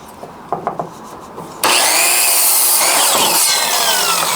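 Wooden pieces for a 42-inch Christmas tree are cut with a power saw: a few soft taps and knocks, then the saw bites in abruptly, loud and close, with a harsh, continuous cutting roar to the end.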